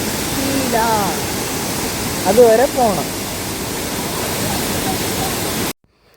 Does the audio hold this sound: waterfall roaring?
yes